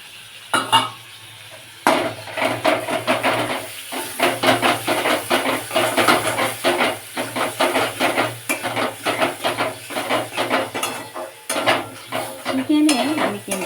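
Tomato paste with turmeric, chili and Kashmiri chili powder cooking in a pan for a chicken curry, a spoon scraping and stirring in steady strokes over a soft sizzle, close and fairly loud, alone.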